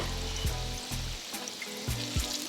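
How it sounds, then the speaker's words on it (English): Akara bean batter dropped into very hot oil, frying with a steady crackling sizzle and several sharp bursts as fresh spoonfuls hit the oil, close and loud. "The batter turns golden as soon as it hits the oil."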